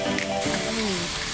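Butter hits a hot pan holding charred corn and sizzles loudly and continuously at close range, with a voice talking over the frying.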